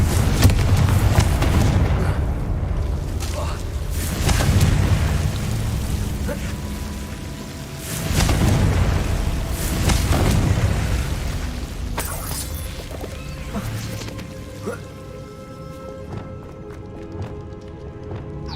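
Repeated booming blasts from the Confringo spell in Hogwarts Legacy, loud rumbling bursts every few seconds mixed with game effects and running sounds, a voice calling spell names over them.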